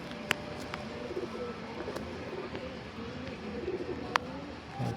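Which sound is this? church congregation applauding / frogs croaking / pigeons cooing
pigeons cooing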